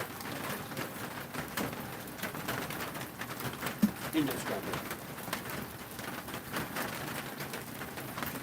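Steady rain falls outdoors at a riverside fish-cleaning spot, a dense continuous patter throughout, with a few brief spoken words over it.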